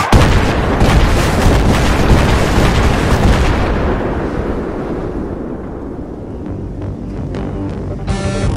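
Mobile artillery from the Armored Kill expansion of Battlefield 3 firing in-game: a loud, heavy booming blast that rumbles on and slowly fades, with a softer thump near the end.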